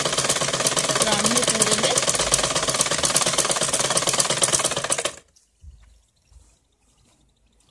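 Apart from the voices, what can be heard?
sewing machine stitching a salwar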